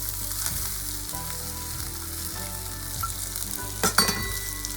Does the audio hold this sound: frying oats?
yes